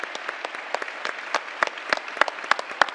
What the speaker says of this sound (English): why don't you give a big applause to great